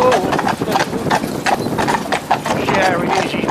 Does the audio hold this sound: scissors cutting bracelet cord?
no